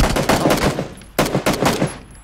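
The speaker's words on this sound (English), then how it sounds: "Are you hip firing that?" Hip-fired guns in the battle royale game PUBG crack in loud, rapid bursts of automatic fire, two main volleys separated by a brief pause, with no talk over them.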